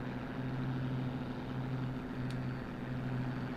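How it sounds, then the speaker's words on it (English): A propeller aircraft flies in IL-2 Sturmovik 1946, a steady low droning engine hum with a continuous rough tone throughout, fairly faint and with no talking. "I can hear a plane somewhere."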